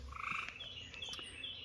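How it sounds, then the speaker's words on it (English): Tree frogs croaking after a night of rain, a fast rattling trill repeated in overlapping calls at moderate distance, steady and alone with no voices. "Tree frogs are making a lot of noise today, aren't they?"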